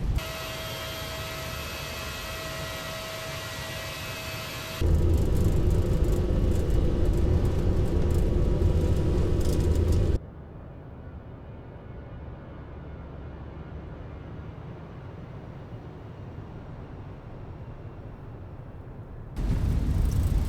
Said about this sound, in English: Huge takeoff roll, that's 80 knots.